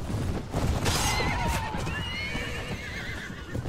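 A horse whinnies loudly in a Mount & Blade Warband battle, one rising, wavering neigh near the start with hoof clatter and battle noise continuing underneath.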